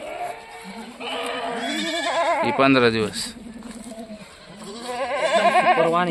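Pregnant Kathewadi goats bleat repeatedly and loudly nearby, wavering cries overlapping one another while someone talks over them.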